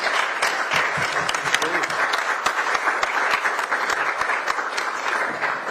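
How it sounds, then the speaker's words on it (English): A room full of people applauding panelists at a conference session, dense continuous clapping at steady strength, with some voices mixed in beneath it. "It's a big round of applause for all the panelists on the dais."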